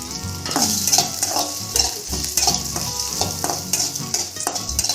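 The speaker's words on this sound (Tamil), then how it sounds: "இப்போ கடாயை சூடு பண்ணிவிட்டு கொஞ்சம் எண்ணெயை ஊற்றிட்டு எடுத்து வச்சுருக்க மசாலாவெல்லாம் இதில் சேர்த்துக்கோங்க." Whole masala spices roast in hot oil in a kadai for a Chettinad fish curry, crackling and sizzling close up while a metal spoon scrapes and clinks against the pan in repeated stirs.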